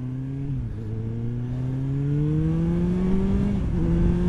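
A Kawasaki Ninja ZX9R motorcycle engine revs up on a main road, its pitch climbing steadily as it accelerates, with a brief dip around a gear change; loud and close throughout.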